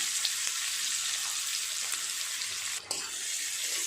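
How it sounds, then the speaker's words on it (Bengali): Chopped onion frying in hot oil spiced with bay leaves, dried red chillies, cumin, cloves and cinnamon: a steady, close hiss of sizzling with one brief dip, no voices. "ফোড়নটা হয়ে গেছে, দিয়ে দেব পেঁয়াজ কুচি"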